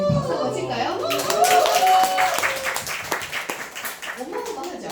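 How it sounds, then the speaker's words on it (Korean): A seated audience at a company event gives a short burst of clapping, scattered hand claps heard under a speaker's amplified voice talking over them. "네, 박수 한번 칠까요?"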